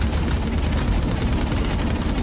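Steady, loud rotor thumping and engine roar of a helicopter in the video game Infamous Second Son, continuous and close, with a rapid pulsing beat throughout.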